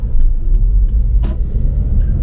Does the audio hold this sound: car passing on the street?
yes